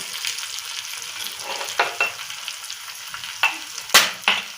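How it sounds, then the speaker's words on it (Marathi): Garlic frying in hot oil, a steady close sizzle with occasional sharper crackles and pops scattered throughout. "चांगलं तळून घ्यायचा लसूण."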